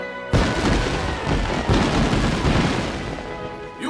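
Fireworks burst in a Ni no Kuni: Wrath of the White Witch town celebration cutscene, a sudden loud crackling barrage of booms and pops that starts abruptly and rumbles on continuously.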